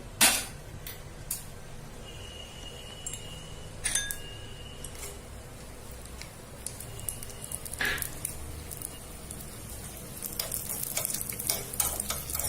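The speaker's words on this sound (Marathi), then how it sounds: "2 चमचे तूप टाकलेलं आहे, त्याच्यात आपण ड्रायफ्रुट्स भाजून घेऊ" Dry fruits roast in a couple of spoons of ghee, a soft low sizzle broken by sharp ticks and clicks of a spoon stirring against the pan, growing busier toward the end.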